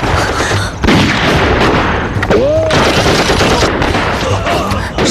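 Dense gunfire crackles in a wartime drama as Japanese military police close in, with rapid overlapping shots and heavy booms filling the scene and a brief voice cutting through midway.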